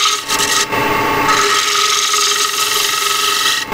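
Bowl gouge taking light cuts on wood spinning on a lathe, making a loud, close, continuous scraping hiss that holds steady with brief dips.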